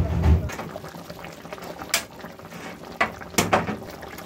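A rui fish rezala curry simmers and bubbles in a pot, a low burbling boil with occasional louder pops and a couple of utensil clinks nearby.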